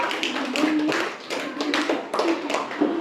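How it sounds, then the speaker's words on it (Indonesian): A group claps for a classmate in a classroom, a brisk run of close, fairly sharp hand claps in an uneven rhythm, with a voice faintly underneath at moments. "Beri tepuk tangan untuk dia."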